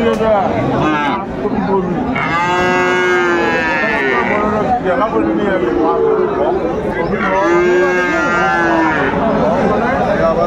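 Sahiwal bull calves moo repeatedly, two long bellowing calls standing out, over a busy crowd of people talking at a cattle market.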